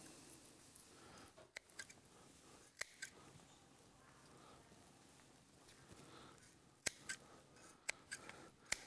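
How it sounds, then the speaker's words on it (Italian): Flame-sterilized scissors snip dead and rotten orchid roots during repotting, giving sparse sharp clicks and crunches, some in quick pairs, at a quiet close distance. "Con quella forbice sterilizzata a fiamma andiamo a tagliare tutte le radici morte e quelle marce."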